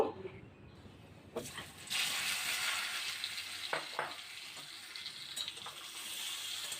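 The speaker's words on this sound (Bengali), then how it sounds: "এবারে কড়াতে সর্ষের তেল দিয়ে ওলটা একটু ভেজে নেব" Yam pieces sizzle in hot mustard oil in a wok, a quiet start giving way to a loud, steady crackling hiss near at hand, broken by a few sharp stirring scrapes.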